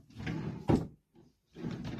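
Drawers of a YITAHOME high-gloss modern coffee table sliding open and shut: two broadband rumbling slides, the first ending in a sharp knock, then a short pause and a third slide, close and fairly loud.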